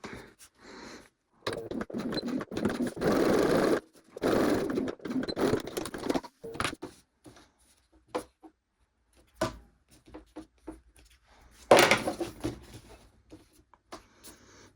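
A sewing machine stitches a raw-edge card wallet with a run of rapid mechanical stitching. It stops and starts in several bursts of a second or two, with quiet gaps and small clicks between them, close up.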